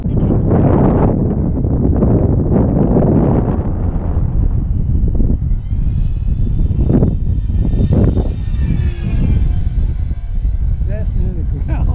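An FT Corsair radio-controlled model warplane flies overhead, its electric motor droning and whining as it passes under heavy wind buffeting on the microphone, while people talk nearby.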